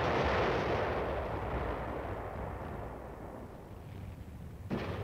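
Artillery fires in the Korean War, a heavy blast that booms loud at the start and rolls off into a long fading rumble, with a sharp second report near the end.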